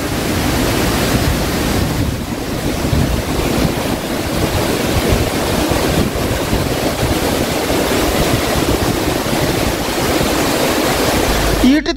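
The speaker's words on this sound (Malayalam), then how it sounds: "മലമുകളിൽ നിന്ന് പാൽപ്പത പോലെ പതിക്കുന്ന തൂവൽ വെള്ളച്ചാട്ടം" Thooval waterfall tumbling down from a hilltop near Manjappara and Eettithoppu: a dense, continuous roar of falling water, steady and loud throughout, with no voices.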